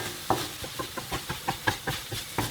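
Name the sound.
stir frying curry fried rice in a pan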